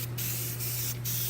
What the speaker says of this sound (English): spray the board